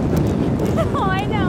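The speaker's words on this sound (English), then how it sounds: "I can't believe how windy it is" Loud, rushing wind buffets the microphone with low rumbling gusts on a hike to an active volcano in Iceland, and a brief high whistling or voice-like tone cuts through near the end.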